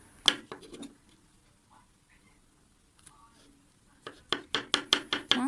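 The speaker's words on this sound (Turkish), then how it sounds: "Soğanlar kavrulurken hemen mantarlarımı doğramaya geçiyorum." Quick, rhythmic knife strokes chop mushrooms on a board for mushroom soup, a burst at the start, a quiet pause, then a steady run of close chops.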